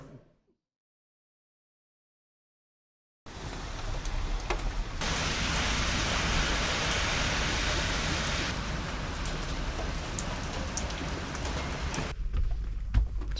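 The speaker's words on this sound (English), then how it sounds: "It's raining." Steady rain pours down outdoors during a van trip, a dense even hiss that starts abruptly after a few seconds of silence and continues loud and unbroken to the end, with no talk.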